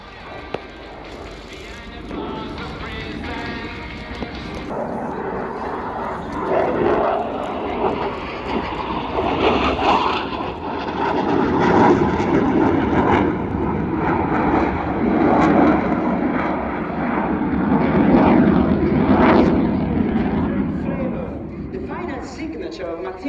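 A Eurofighter Typhoon flies an air display at full military power, just below the speed of sound. Its loud jet roar swells and fades as it passes, under a commentator's voice.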